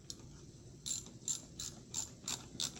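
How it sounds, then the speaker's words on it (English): A socket wrench removes the head bolts from an air compressor pump, giving a series of six or seven short, crisp ratcheting clicks spaced at a steady rhythm, close and fairly quiet. "he's pulling the head bolts right now"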